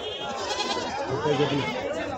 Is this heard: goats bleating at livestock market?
yes